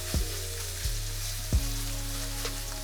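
Steak searing in a very hot pan, a steady close sizzle and crackle with a few low thumps and bumps as it settles.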